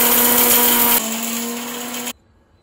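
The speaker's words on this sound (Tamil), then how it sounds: "குறக்குறன்னு அரைச்சி எடுத்துக்குவோம்." A mixer grinder whirs loudly as it coarsely grinds black pepper, cumin and coriander seeds, its motor pitch shifting once partway through before cutting off abruptly into near silence.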